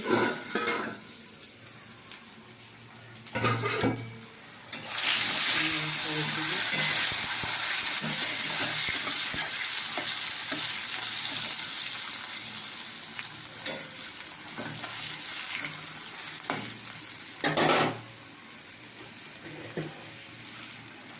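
Food frying in a pan with a steady, close sizzle and intermittent scraping stirs, plus a few louder clatters of the utensil against the pan; occasional soft speech underneath.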